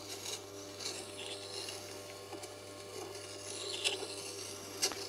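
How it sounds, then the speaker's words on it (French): A woodturning tool being sharpened on a Tormek grinding wheel, heard as a steady, quiet scraping hiss under a low motor hum, with a few faint ticks and no talk. "Je refais une passe donc en appuyant moins fort. J'essaye de passer partout sur la meule."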